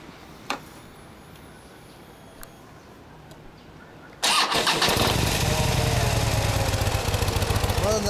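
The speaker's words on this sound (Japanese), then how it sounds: "エンジン音聞かせてもらえますか" A nearly new 2016 Harley-Davidson Dyna Street Bob FXDB, still being broken in, sits quiet with a few faint clicks, then its engine fires up abruptly about halfway through and settles into a loud, close, steady rumbling idle with rhythmic loping pulses.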